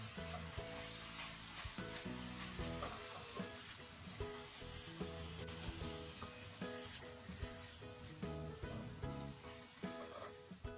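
Baby squid with cut scallion greens stir-fried in a wok, a steady loud sizzle with scraping stirs and tosses running throughout, with background music over it.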